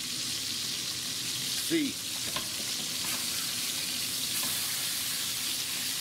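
Pork chops fry in a pan with a steady loud sizzle, broken by a brief scrape and thump as they are flipped; a voice speaks briefly over it.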